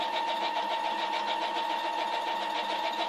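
A sewing machine stitches continuously at a steady fast rhythm, close and fairly loud, with no talking.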